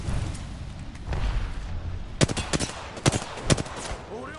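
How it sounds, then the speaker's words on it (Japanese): Gunfire in a video game: several sharp, close shots crack in quick bursts over a low rumbling background, with a few separated reports toward the end. "俺を撃ってるのか"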